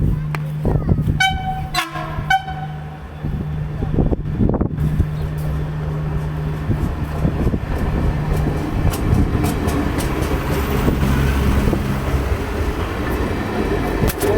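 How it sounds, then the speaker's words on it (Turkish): A TCDD train departing Selçuk station rumbles loudly nearby, sounds two short horn blasts, then keeps rolling and clattering steadily as it pulls away, with voices faintly underneath. "Evet şu an tren kalkıyor."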